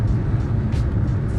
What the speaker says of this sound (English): the straight six has a unique sound